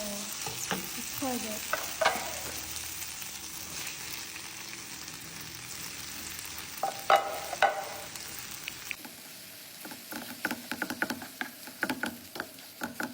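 Shrimp sizzle in butter in a pan, a continuous bubbling fry broken by scattered clicks and scrapes as the pieces are stirred, with a quieter, crackling stretch toward the end.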